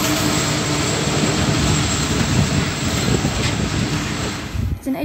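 Class 82 diesel locomotives rumble past in a steady, loud, continuous roar of engine noise and broad wind-like wash, with low throbbing underneath and a slight drop near the end; someone speaks over it.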